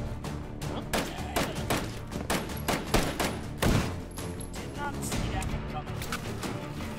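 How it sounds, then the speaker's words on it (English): A 9mm SMG fires in the H3VR virtual reality shooter in repeated bursts of sharp shots over several seconds, with a person talking over them. "This looks like a 9mm SMG."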